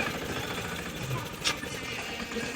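A tractor runs on a farm on the way to sow fertilizer, its engine a steady rumbling hum with someone speaking over it.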